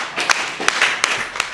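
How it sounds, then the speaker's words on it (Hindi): Audience applause at a Hindi kavi sammelan welcoming a poet on stage, a brief burst of clapping with a few sharper claps standing out, moderately loud across a busy hall. "आप हाथ खोल लो और ताली वाली बजा के एक बार स्वागत करो"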